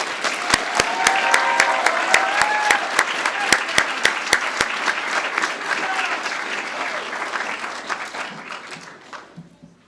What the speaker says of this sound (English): Would you please join me in one more round of applause for our graduates?